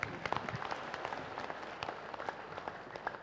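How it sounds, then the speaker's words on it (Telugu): A seated audience at a spiritual talk claps in a brief, moderately faint burst of scattered, uneven hand claps with no voices over it. "ఆమె గొంతురు గట్టిగా చప్పట్లు కొడదాం"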